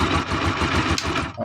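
A Honda TMX Alpha motorcycle engine idles steadily after a valve adjustment, with a smooth, even, close-up putter and light mechanical clatter that runs throughout.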